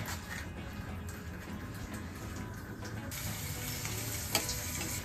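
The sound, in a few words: papad frying in oil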